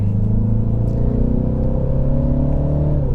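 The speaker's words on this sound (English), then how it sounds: "So, accelerating onto the highway" A MINI Cooper S Clubman All4 with an 8-speed automatic accelerates onto a highway, its engine droning steadily and rising in pitch inside the cabin, with one shift near the end.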